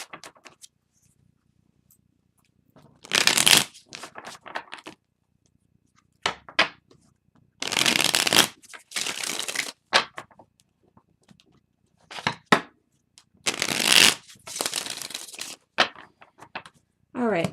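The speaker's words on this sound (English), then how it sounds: "Just so you know, I don't have any cards in reverse." Tarot cards are shuffled in several loud, crisp bursts of riffling, separated by quieter paper rustles and pauses, all close to the listener.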